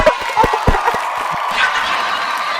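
A small group claps and cheers briefly, with a burst of hand claps at the start fading into a murmuring crowd and chatter.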